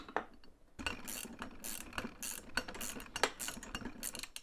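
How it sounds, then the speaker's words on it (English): A ratcheting wrench tightens locking nuts while assembling an Agri-Fab 85 lb tow broadcast spreader, giving rapid close clicking bursts in an irregular rhythm of short strokes. "a ratcheting wrench."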